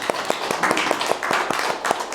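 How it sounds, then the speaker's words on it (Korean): A church congregation claps to welcome a deacon to the front, a brisk, moderately loud patter of many hands that keeps going evenly throughout. "우리 박수로 환영하겠습니다"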